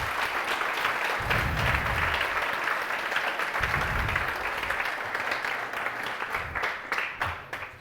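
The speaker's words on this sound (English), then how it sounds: "I think a round of applause was too short." Conference audience applause after a vueday 2022 web development talk, with dense, even clapping filling the room for several seconds before it thins out toward the end, and a brief voice over it.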